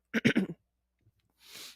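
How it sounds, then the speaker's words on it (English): A few short, harsh coughs in quick succession, close and fairly loud, then a pause and a soft breathy rush of air. "I apologize for the coughing."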